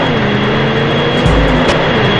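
Airplane engines in the PS1 game 007 Racing: a loud, sustained jet roar with a steady droning hum and a brief low rumble swelling near the middle, heard without speech.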